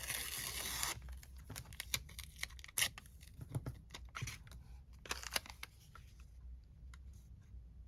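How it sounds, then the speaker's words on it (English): Paper ripped by hand while making a junk journal ephemera holder: an opening stretch of rough tearing, then a run of short, quiet rips and crinkles, close by with no talk. "I'm just gonna rip it like it's sort of script."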